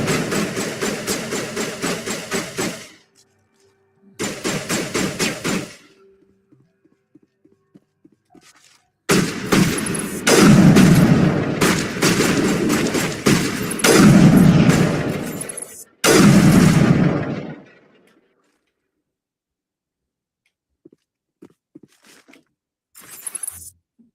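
Gunfire in the Mass Effect video game, a few loud bursts of shots in separate clusters spread across the stretch, with quiet gaps between them and a couple of faint pops near the end.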